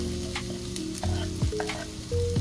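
Onions and garlic sautéing in a pan, with steady close sizzling and frying, occasional stirring clinks and a faint background hum.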